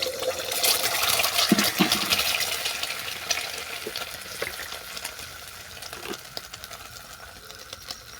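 An egg frying in a little mustard oil in a kadai, a loud hissing sizzle at first that gradually settles into a softer crackle with scattered pops; no talk.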